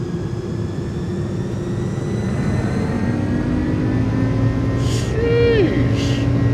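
General Electric jet engines on an Airbus A300F freighter spool at takeoff power in a flight simulator game, a loud, steady roar with whining tones across the whole stretch, a few brief beeping chimes near the end.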